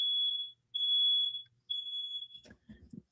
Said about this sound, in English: Now the smoke alarm's going off.